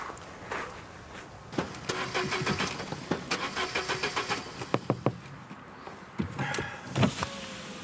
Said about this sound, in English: the stupid car won't start